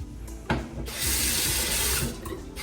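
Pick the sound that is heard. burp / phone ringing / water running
water running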